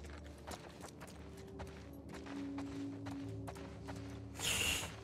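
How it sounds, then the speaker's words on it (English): Horse hooves clop in The Last of Us Part II, a faint, regular patter of soft thuds in a quiet game scene, ending with a brighter burst of noise near the end. "I guess there's a horse. Here. There's a horse."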